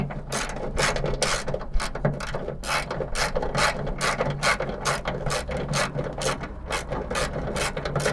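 A hand ratchet backs out the last bolt holding a Honda Civic trunk lid, giving a steady, close run of fast clicking pawl strokes that continues evenly throughout without speech.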